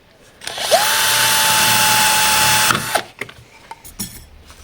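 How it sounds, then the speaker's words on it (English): A power drill bores through a recycled tin lid with a loud, sustained whine that spins up, holds steady for about two seconds and stops, followed by a few short clattering knocks and handling sounds. "So I need to drill a hole through the lid."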